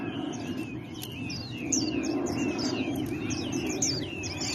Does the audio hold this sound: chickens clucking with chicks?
no